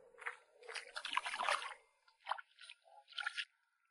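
Water splashes and squishes in short bursts as a freshly dug crab is rinsed by hand at the beach, close and fairly soft, with a few quick sloshes and drips before falling quiet.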